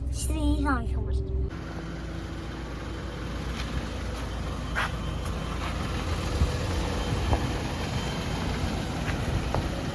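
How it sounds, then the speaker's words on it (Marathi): A vehicle pulls away at the start of a road trip from Mumbai toward Pandharpur, its steady engine and road drone filling the cabin throughout, with voices briefly heard at the very beginning. "आमची गाडी निघाली आता पंढरपूरसाठी"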